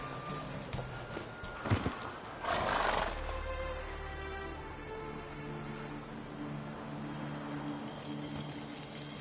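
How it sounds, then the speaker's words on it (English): A horse in The Witcher 3 video game snorts and neighs over a steady outdoor ambience. A breathy burst near the start leads into a longer rough whinny, followed by low rumbling game background. "Whoa there, Roach"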